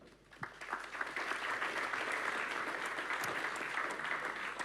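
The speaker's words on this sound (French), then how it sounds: "le tout sous vos applaudissements" An audience at a conference on future aircraft claps to welcome the moderator, a steady, moderately loud round of applause that swells early and holds evenly, with no speech over it.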